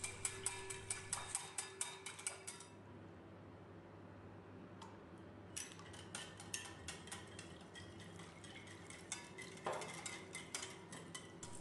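A spoon stirring tomato paste and cold water in a pot, quiet repeated clinks and scrapes in bursts that pause for a few seconds midway before resuming.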